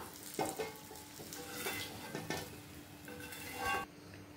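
Brinjal slices sizzling in oil in a pan for a spicy fry, a quiet continuous crackle with occasional scrapes and clinks of a utensil against the pan.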